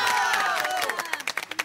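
Scattered hand claps rise at a comedy scene, starting under a loud, sustained voice and turning into sharper, separate claps near the end.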